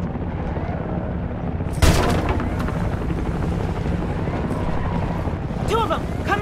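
Gunfire erupts in a Homefront video game battle: a sharp burst breaks out suddenly and gives way to continuous rattling shots and a rumbling vehicle-like drone, with shouting voices mixed in.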